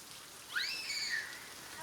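Heavy rain pours steadily in a broad, even hiss, with a faint whistling tone rising and falling near the middle.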